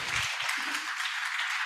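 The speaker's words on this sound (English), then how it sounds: "Give applause to our Professor Song Hyung Wang Myung." Brief applause from a seminar audience for a professor at a smart-city governance session, a steady wash of clapping with a faint low voice at the start.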